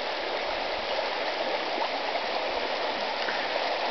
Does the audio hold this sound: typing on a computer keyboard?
no